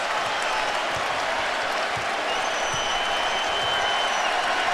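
Crowd in a Chicago Bulls NBA basketball arena roaring and cheering steadily, a broad continuous wash of noise filling the space without letup.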